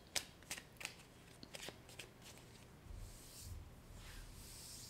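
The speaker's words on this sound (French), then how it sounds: "Je vais prendre une carte de Lenormand." A deck of Lenormand cards being shuffled by hand gives soft, quick papery riffles and flicks, close and quiet, with no talking.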